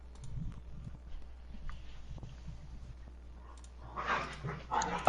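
A dog barks in short bursts near the end, with faint yelps earlier, heard low behind an indoor room tone and a brief voice.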